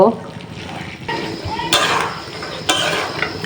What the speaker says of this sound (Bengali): এখন আমি বুটগুলো ভালোভাবে কষিয়ে নিব